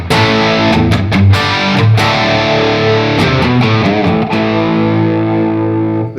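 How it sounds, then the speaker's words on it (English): Electric guitar with heavy distortion plays sustained, thick chords with a few sharp strums, loud and continuous throughout. "And like with a ton of distortion, it sounds great."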